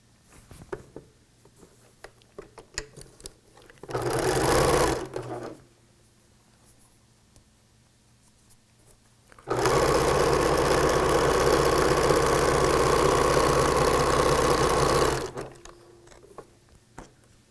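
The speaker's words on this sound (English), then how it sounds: "now I have another area that I'm ready to sew" A sewing machine runs in two bursts while stitching a T-shirt quilt, first a short run of about a second and a half, then a steady sustained run of roughly six seconds, with quiet handling and fabric rustle around them.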